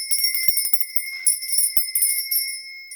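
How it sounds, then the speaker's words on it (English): A hand bell rings steadily and loudly throughout, its bright metallic tone sustained with repeated strikes and no voices present. "I'm going to be ringing my lovely lady bell."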